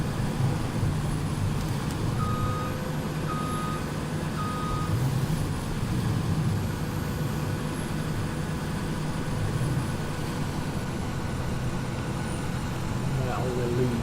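A truck pulling a livestock trailer in Farming Simulator 17 backs up with a steady low engine drone and a run of evenly spaced reversing beeps early on.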